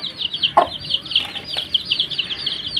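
A mother hen with a brood of nine chicks clucks nearby in short, rapid bursts, with faint chick peeps mixed in and no one talking.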